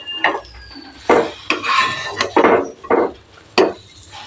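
Date paste is stirred with ghee in a frying pan over low heat, making about seven rhythmic, close-up scraping strokes of a wooden spatula against the pan, with short pauses between them.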